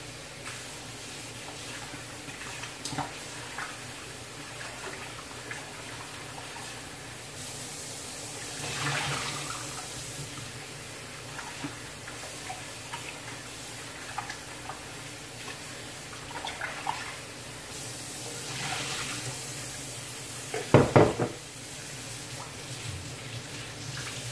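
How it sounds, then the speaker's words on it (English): Cassava pieces are rinsed under a running kitchen tap, a steady wash of water into a sink with occasional splashes and a louder burst near the end. "Go ahead and rinse these off."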